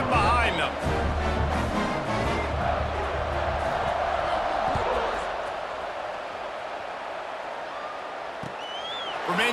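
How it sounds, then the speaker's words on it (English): A college football crowd at a James Madison vs Coastal Carolina game gives a broad, steady roar before the kickoff, which eases off partway through, while a commentator talks over it. "They're set to kick it off, and this crowd now ready to get behind them."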